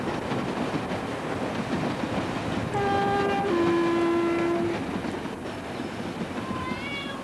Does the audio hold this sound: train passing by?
yes